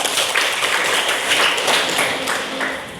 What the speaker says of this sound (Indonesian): Tepuk tangan teman kamu